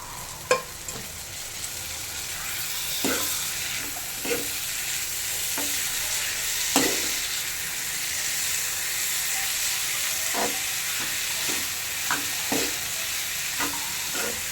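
Wild gabholi greens frying in a pan give off a steady sizzle and hiss, broken by repeated sharp clinks of a spoon stirring against the metal, close and fairly quiet with no talk.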